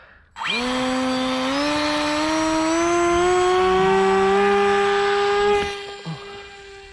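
A Dynam Hawksky V2 RC plane's electric motor runs at full speed, a loud, steady, high-pitched whine that climbs slightly in pitch for several seconds, then cuts off abruptly near the end.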